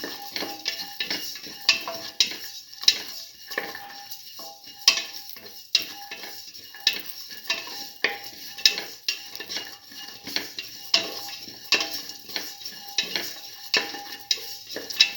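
Black lentil stew ingredients being sautéed in a pan, with a spatula stirring and scraping in a steady rhythm over a soft, continuous sizzle, close and moderately loud, with no talking.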